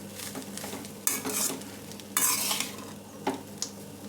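Garlic rice (chitranna) being stirred in a pan, with repeated scraping and rustling strokes of a spoon through the rice and a soft sizzle underneath, close and fairly quiet with no talking.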